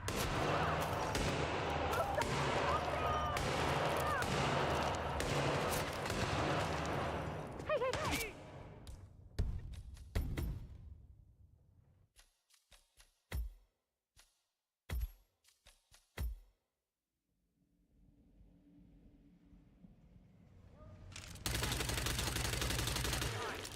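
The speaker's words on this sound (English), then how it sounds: "Gunshot!" Video game gunfire: dense automatic bursts with loud shots fill the first half, then scattered single shots with short gaps, and a sudden loud burst returns at the end, mixed with shouting game dialogue.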